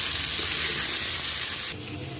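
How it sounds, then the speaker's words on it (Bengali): Potatoes frying in hot oil in a wok, a loud, close, continuous sizzle that drops abruptly in intensity near the end. "এবার আমি আলুগুলোকে ভেজে নিব।"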